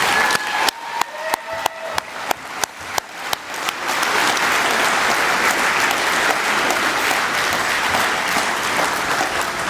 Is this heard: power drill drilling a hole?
no